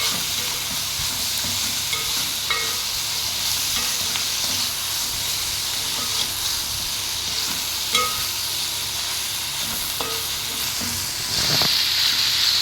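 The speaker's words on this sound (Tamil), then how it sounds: "அடுத்து ஒரு 8 வரமிளகாயை சேர்த்துருக்கோம். இதையும் ஒரு வதக்கிடலாம்." Garlic cloves and eight dried red chillies sauté in oil, giving a steady, close sizzling hiss with occasional soft stirring knocks and a brief sharper hiss near the end.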